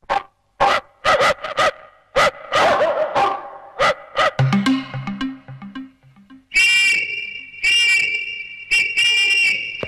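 Comedy sound effect of a dog barking: a run of short, sharp barks and yips, then a stepped whistling tone and a sustained squeaky, high-pitched cartoonish whine, all loud and close with no talking.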